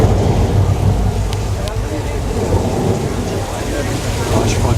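A simulated thunderstorm on a Universal Studios tour, with loud, dense rain pouring steadily and low thunder rumbling throughout, plus a few sharp crackles near the start.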